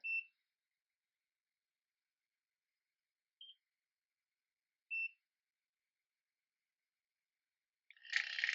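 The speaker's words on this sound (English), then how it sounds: "You just place it on the area and wait for the second beep" A laser hair removal device gives three short, high electronic beeps with long silent gaps between them, then a burst of noisy rustling at the end.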